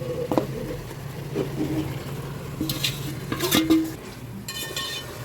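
Soaked mutton is tipped into a pot of hot oil and ghee for a mutton pulao and stirred: scattered clanks and scraping of a spoon against metal over a faint sizzle, close by and without talk.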